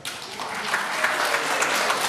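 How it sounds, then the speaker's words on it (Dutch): Studio audience on a Frisian TV show breaks into steady, full applause celebrating the promotion of the town of Sneek, a continuous wash of clapping that starts abruptly and holds evenly. "Applaus voor de promotie van Snit."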